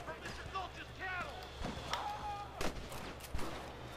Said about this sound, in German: da habe ich seinen Hut weggeschossen